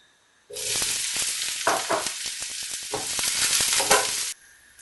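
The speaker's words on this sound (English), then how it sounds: "first fry the aubergines in hot oil" Aubergines frying in hot oil for baingan methi: a loud, steady sizzle that starts abruptly, with crackles and the scrape of stirring, running alone for about four seconds and then cutting off.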